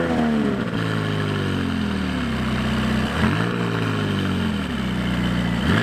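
A McLaren 570S with a flat-plane-crank racing engine idles after start-up, holding a steady buzzing hum close by, with a couple of brief throttle blips that raise the pitch.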